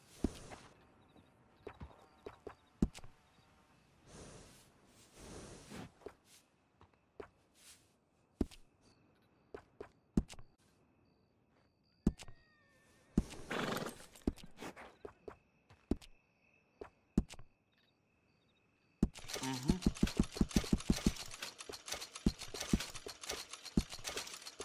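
Horse hooves clip-clopping in Red Dead Redemption 2, sparse distinct hoof strikes spread out at first, growing into a brisk, rhythmic run of close, crisp steps toward the end.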